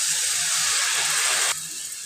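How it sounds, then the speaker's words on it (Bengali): Water pours into a hot pan of spice paste with cumin, a loud steady hissing sizzle that stops abruptly, leaving a quieter background hum. "এই যে আমি একটু পানি দিয়ে দিলাম।"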